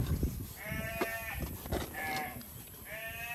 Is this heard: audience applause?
no